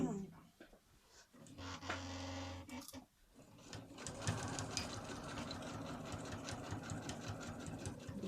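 A sewing machine stitches a homemade cloth sanitary pad, its needle running in a steady fast chatter after a short stop-start, with a voice talking over part of it.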